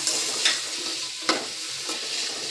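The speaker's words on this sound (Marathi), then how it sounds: "आता हे मी थोडं पाच दहा मिनटं मी मस्त फ्राय करून घेणार" Vegetables sizzle steadily in a hot pan for a pulao, with a spoon scraping and stirring in two or three distinct sweeps over a continuous frying hiss; close and clear, no voices.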